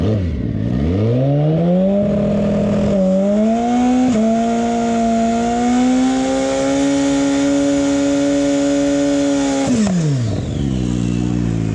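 A drag racing motorcycle ridden by Rick Busta at Maui Raceway Park does a loud, sustained burnout, its engine held at a steady high rev for several seconds before dropping off, with an earlier rev climb at the start.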